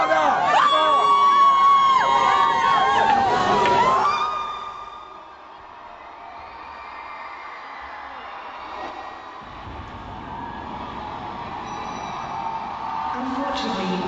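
A concert crowd at a show cheers and screams loudly for a few seconds, then fades to a low murmur of chatter and distant noise.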